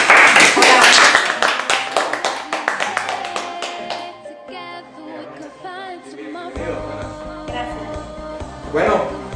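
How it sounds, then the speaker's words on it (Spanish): Clapping welcoming guests of honor at a municipal committee event in Comala, a brief burst of hands up front that fades as music and talk take over. "Demos la bienvenida, un aplauso"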